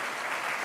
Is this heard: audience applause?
yes